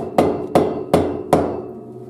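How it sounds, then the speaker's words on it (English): A rubber mallet strikes an old radiator pipe resting on a rotted joist four times at an even, unhurried pace, each blow a loud, close thud with a short ringing decay. "So I'm just going to beat it up a little bit with this rubber mallet"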